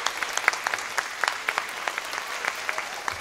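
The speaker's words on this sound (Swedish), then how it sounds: "Vi ger en stor applåd till Kenneth och till Knivsta kulturskola." Audience applause at a community event with a fire brigade and a culture school, a loose scatter of distinct individual claps rather than a dense roar, fairly close and sparse.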